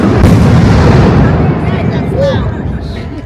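A very loud consumer firework cake going off at a Fourth of July celebration in Seattle, a dense rolling barrage of booms and crackling bursts that stays loud and continuous throughout.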